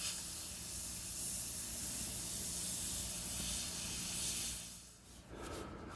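An airbrush sprays paint onto a small 3D printed fantasy medieval cottage model, a faint continuous airy hiss that runs steadily and then drops away briefly near the end.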